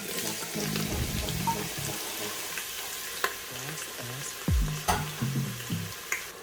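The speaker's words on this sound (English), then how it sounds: "Let's add our onions." Onions dropped into hot cooking oil for chicken biryani in a pressure cooker sizzle and crackle steadily up close, with scraping stirring knocks and a few sharp clinks over the frying.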